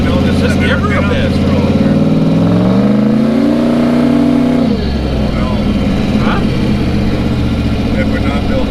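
A turbocharged truck engine with a TH350 transmission revs hard near the mic. Its pitch climbs steadily for several seconds, then drops sharply back to a rough idle while people talk.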